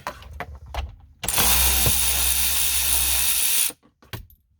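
An air ratchet whirs loudly for about two and a half seconds, pulling a bolt from a 2000–2005 Buick LeSabre during heater core removal, framed by metallic clicks and taps before and after.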